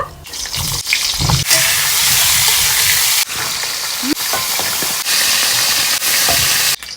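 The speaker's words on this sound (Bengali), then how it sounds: "তেল গরম হয়ে গেছে, এবার পটলগুলো ভেজে নেব।" Loud, continuous sizzling as pointed gourd pieces fry in hot oil, with occasional clatters and brief pauses breaking the hiss.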